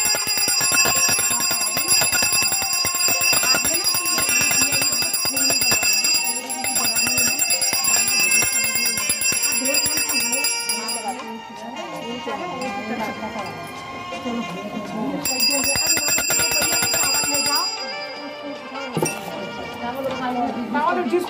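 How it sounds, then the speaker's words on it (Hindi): A brass hand bell rings steadily and continuously during a Hindu puja at a household wedding ceremony, bright and close, with voices and other ritual sounds mixing underneath throughout. "घंटी लाओ, घंटी"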